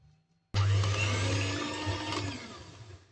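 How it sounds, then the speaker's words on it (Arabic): Electric hand mixer whisking egg whites with a pinch of salt for French meringue, switching on abruptly after a short quiet moment and then running as a loud, steady whir that slowly fades a little. "غادي نضرب الابيض ديال البيض حتى غادي يرغوي"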